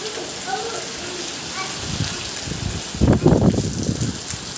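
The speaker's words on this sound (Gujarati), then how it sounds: "આમ જો કરા પડે છે અત્યારે" Rain pattering steadily in strong wind, then a louder burst of hard, rattling hail impacts on clay roof tiles around the middle.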